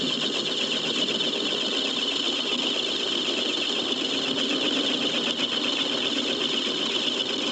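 A 75-year-old Monarch 10EE lathe takes a light cut in metal at 500 RPM, its motor held in with a bungee cord, producing a steady, dense mechanical whir and hiss with no letup, close and fairly loud throughout.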